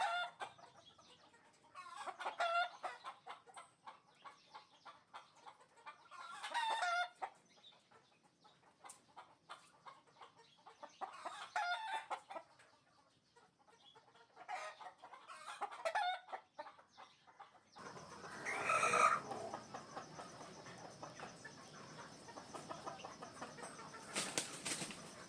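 Gamefowl broodcocks in a coop cluck and crow repeatedly at moderate distance, with intermittent wing flapping and a louder burst of activity toward the end.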